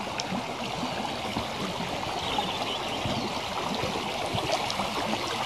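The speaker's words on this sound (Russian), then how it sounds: "Такой ручеек в Цирлянку впадает." A small stream of meltwater trickles and gurgles into the Tirlyanka river during spring flood, a steady close, soft rushing flow with no voices.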